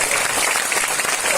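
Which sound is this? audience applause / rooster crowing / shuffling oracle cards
audience applause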